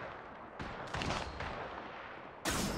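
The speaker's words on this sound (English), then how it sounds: "Opening fire" Gunfire in Apex Legends, a few loud broadband bursts of shots with a sharp burst near the end, set against steady game ambience with no talking.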